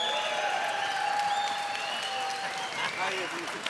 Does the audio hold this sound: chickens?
no